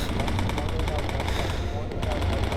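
Dense, continuous rapid gunfire from a bomber's guns firing high-explosive rounds in the Bomber Crew game roars without pause, loud and close, with a voice faintly underneath.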